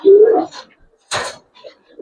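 Pigeons in a loft give a short coo, followed by a brief rustling burst and a few faint softer sounds.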